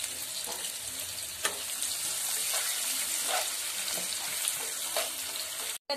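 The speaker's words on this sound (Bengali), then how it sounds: "এই তেলের মধ্যেই আমি এবারে পেঁয়াজ দিয়ে দিচ্ছি এগুলো বেরেস্তা করে নেবার জন্য" Sliced onions frying in hot oil for birista, a steady close hiss and crackle with occasional sharp pops and stirring clinks, continuous throughout before an abrupt stop at the end.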